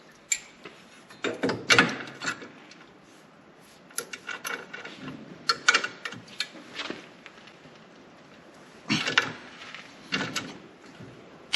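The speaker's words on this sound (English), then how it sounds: "15mm socket and ratchet." Ratchet wrench with a 15mm socket turning an axle nut on a Rhino 2.0 axle job, bursts of rapid clicking ratchet strokes in several separate clusters with short pauses between, close and fairly loud, no talking.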